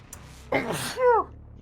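A single sharp sneeze bursts out close to the microphone, a broadband spray of sound followed by a brief voiced tail, alone in a quiet room.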